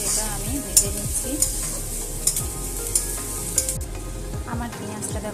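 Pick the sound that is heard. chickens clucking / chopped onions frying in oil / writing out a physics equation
chopped onions frying in oil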